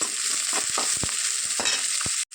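Chopped onions, about ten garlic cloves and green chilies sizzle in hot oil with popped mustard seeds and cumin, a continuous close frying hiss with a few stirring knocks, cutting out abruptly near the end.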